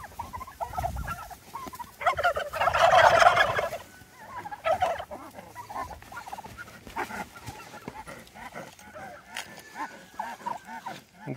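Turkeys on a meat-production farm gobble in loud bursts, with clucking fowl and scattered background noise, while someone talks in between.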